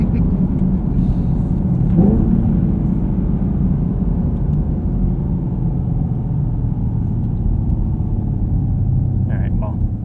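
A 2023 Chevrolet Camaro 1LT's 3.6L V6 with a manual gearbox drones steadily from inside the cabin, a loud continuous low rumble with little change in pitch, with brief talk early on.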